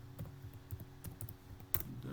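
Fingers type on a computer keyboard while writing Selenium test code, producing a string of irregular, fairly faint key taps over a low steady hum, with one sharper click near the end.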